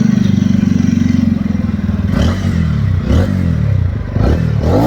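A modified TVS Ronin 225 cruiser motorcycle idles with a steady, throbbing low engine pulse, then gets a few blips of the throttle that rise and fall in pitch, close and fairly loud.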